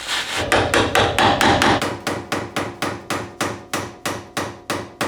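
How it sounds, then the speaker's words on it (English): Steady, sharp metallic blows of a hammer striking the end of a pry bar to free a steering rack from the steering column of a 2001-2007 first-generation Toyota Sequoia, about a dozen close, evenly spaced ringing hits. "we're going to hammer on the end of it and see if we can get it up"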